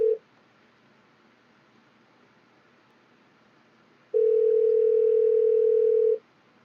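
A steady telephone dial tone from a cold-calling dialer: a brief tone at the start cuts off, then after a quiet stretch a loud, unbroken tone holds for about two seconds before stopping, with no voices.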